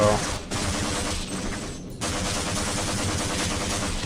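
Rapid automatic gunfire in Half-Life: Blue Shift rattles on almost continuously and loud, breaking off briefly twice before resuming in dense bursts.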